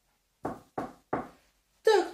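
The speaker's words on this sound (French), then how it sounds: "toc toc toc se fit entendre à la porte de la Voie lactée." Three evenly spaced knocks on a door, close and clear against silence, followed by a brief voiced sound.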